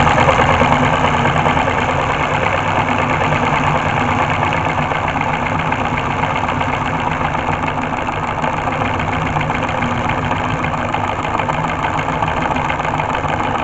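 A small four-cylinder solenoid engine runs steadily at an even idle, a continuous close buzzing hum with a fast mechanical chatter throughout and no voices.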